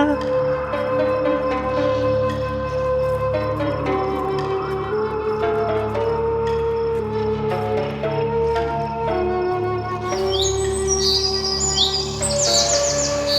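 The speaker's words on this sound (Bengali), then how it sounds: "পাখি ছানাদের শব্দ পাওয়া যাচ্ছে" Bird chicks in a Bangla cartoon chirp in quick, high bursts that rise over steady background music toward the end, fairly loud and close.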